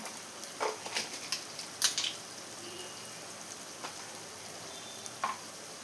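Coriander powder, Kashmiri chilli powder and salt get stirred into frying masala for a fish curry, with a quiet steady sizzle broken by occasional scraping clinks of the spoon.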